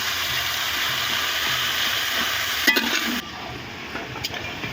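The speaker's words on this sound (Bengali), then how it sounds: "পেঁয়াজটা ভালো করে ভেজে নিচ্ছি" Chopped onions frying in hot oil for a chicken red curry (murgir laal jhol), giving a steady, close, loud sizzling hiss that drops to a softer fizz partway through, with a few light clicks.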